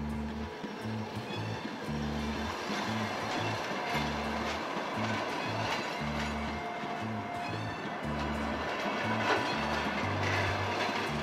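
Steady rumble of a moving train with rhythmic low clatter from the wheels, continuous throughout, heard from inside the carriage.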